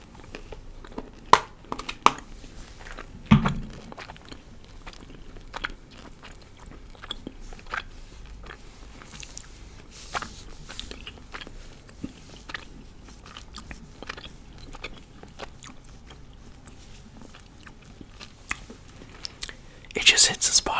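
Soft, wet chewing and crunching of Sour Patch Trident gum close to the mic, in irregular bites mixed with rustling and crinkling.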